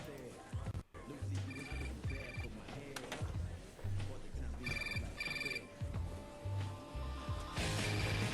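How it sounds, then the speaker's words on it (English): A telephone rings in short repeated bursts within a played video scene in a store, sounding fairly clear over background ambience with voices nearby. "So his phone starts ringing"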